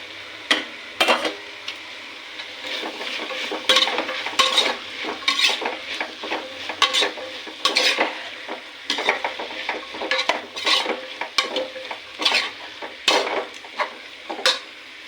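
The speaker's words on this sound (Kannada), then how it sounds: "ಇದಕ್ಕೆ ನಾನು ಹೆಚ್ಚಿಟ್ಕೊಂಡಿರೋ ತರಕಾರಿನ ಹಾಕ್ತಿದ್ದೀನಿ." Chopped vegetables and fenugreek greens fry in a pan for a fenugreek pulao, with a continuous sizzle broken by repeated sharp scrapes and clinks of a spoon stirring against the metal, close and alone.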